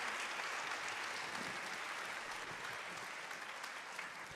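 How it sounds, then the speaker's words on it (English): A church congregation gives a sustained round of clapping in praise, a dense, even wash of many hands applauding together, steady and fairly distant, without talk over it. "Can we give a big clap offering to Jesus?"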